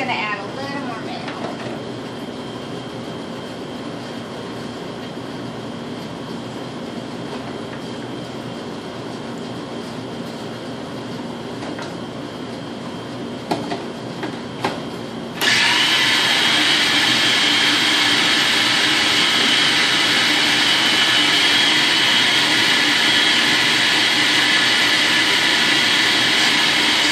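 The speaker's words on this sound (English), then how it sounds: "I do like to blend it up because there are very large chunks of the fruit" A blender blending rice chutney starts partway through, a loud steady whir that cuts in abruptly over quieter kitchen background and runs without letup to the end.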